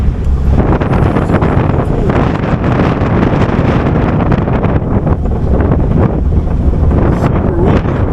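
Strong wind roars steadily into the microphone at Barker Ranch, a loud continuous rushing buffet with no letup across the whole stretch.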